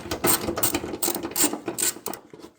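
A bolt is being undone on the headlight of a 2014 Subaru Outback with a ratchet, producing about six quick, close, rhythmic clicking bursts that stop near the end.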